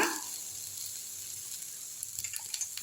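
Onions and tomatoes sauté gently in a pan for a salna, a faint, even hiss of sizzling with a few light stirring clicks toward the end.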